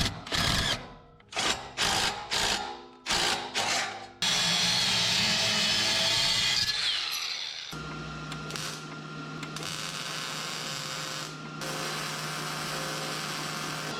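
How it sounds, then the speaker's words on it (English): Welding on a 1991 Squarebody dually truck: several short, loud crackling bursts in quick succession, then a longer continuous buzzing weld run, followed by a steadier, humming stretch to the end. "Got that baby welded back on"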